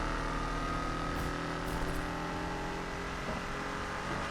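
A Mustang Foxbody in Need For Speed Unbound accelerates hard, its engine a steady, loud drone that stays unbroken the whole way with no pauses or talk.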